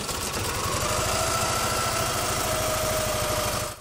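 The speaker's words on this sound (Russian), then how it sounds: "Хороший мотоцикл «Урал»." An Ural motorcycle engine idles close by with a loud, steady, rapid thumping rhythm that holds evenly throughout.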